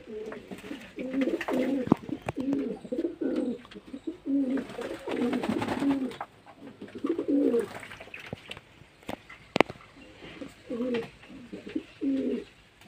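Pigeons bathing in a shallow water tray coo repeatedly in soft, rhythmic throaty phrases close by, with occasional splashes and clicks between calls.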